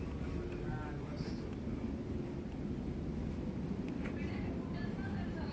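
Steady low rumble of a passenger train running between Rochester and Chatham, heard from inside the carriage as continuous rolling noise with faint higher squeals, no talk.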